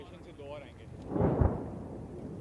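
Second bomb impact from a Hawk jet dive attack during an Indian Air Force firepower exercise: a deep, distant boom swelling over about half a second, heard after a brief commentary voice.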